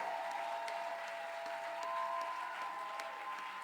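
A church congregation applauding and cheering, dense steady clapping with crowd voices and a sustained tonal hum running underneath throughout.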